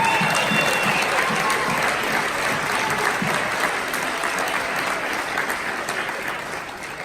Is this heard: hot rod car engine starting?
no